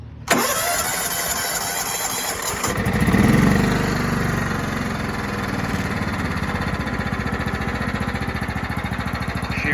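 A John Deere STX-30 lawn tractor engine turns over and fires, then runs at a steady, throbbing idle close by, with a brief surge in revs partway through before settling into an even rhythmic putter.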